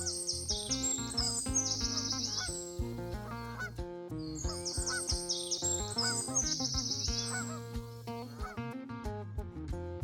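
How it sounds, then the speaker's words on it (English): Lesser and greater flamingos gather in a huge flock at a Kenyan lake, giving dense, overlapping goose-like honks and nasal chattering that continue steadily throughout, loud and close with no talking. "Both lesser and greater flamingos gather here,"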